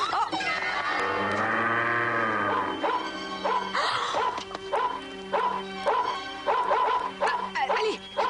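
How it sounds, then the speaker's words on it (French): Several dogs bark and yelp loudly and close by, starting with a drawn-out whining howl and then breaking into rapid, overlapping barks. "Allez, couchez les chiens,"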